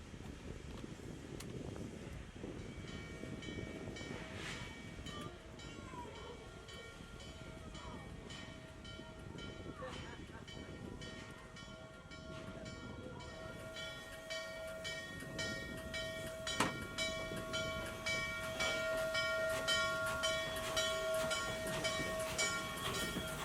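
Norfolk & Western steam locomotive 611 pulls out of Leaman Place, with a long, steady whistle tone and the rolling rumble and clatter of the train building over about twenty seconds, heard from nearby and fairly loud.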